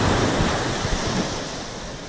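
Arabian Sea waves wash onto a beach in Kerala, a continuous loud roar of surf mixed with wind buffeting the microphone, with no voices.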